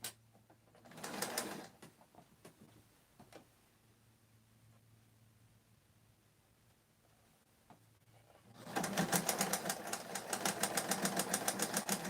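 A sewing machine stitches a small hem on a neckline. A short whirring burst comes first, then near-quiet, then a longer loud, steady run of rapid mechanical stitching up close.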